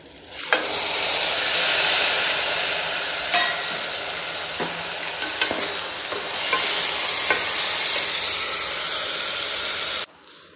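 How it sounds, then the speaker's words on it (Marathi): Onion, tomato, ginger-garlic paste, bay leaf and whole spices fry in hot oil for a chicken pulao, a loud continuous sizzle and hiss with occasional stirring clicks, close up, cutting off near the end. "कांदा, टमेटो, आलं लसणाची पेस्ट, तेजपत्ता, आपले अख्खे मसाले असे तेलात परतवून घ्यायचे"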